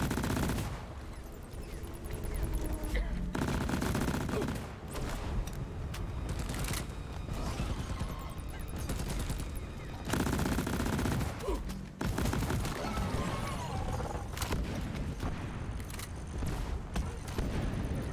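Rapid automatic gunfire in the video game Deep Rock Galactic, loud sustained bursts broken by brief pauses, with explosions mixed in and a player speaking briefly.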